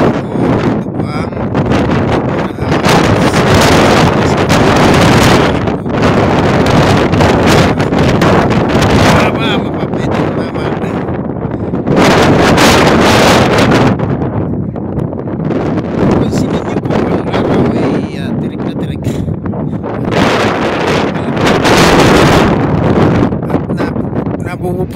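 Strong gusting wind buffets an outdoor microphone near Sydney Harbour, a loud continuous roar that swells and eases in waves over the whole stretch and nearly drowns out a voice.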